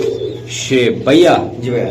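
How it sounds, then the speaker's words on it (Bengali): Racing pigeons coo up close in a loft, two or three low throaty coos, while someone talks over them. "দুইটা কবুতর অস্থির"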